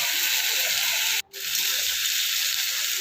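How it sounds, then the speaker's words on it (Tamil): Water pours from a tumbler into a pot of sambar with chilli powder, turmeric and salt, a loud, close, steady gushing splash broken by one brief pause before pouring resumes. "2 டம்ளர் தண்ணி சேர்த்து நல்லா கொதிக்க விடலாம் 5 நிமிஷம்."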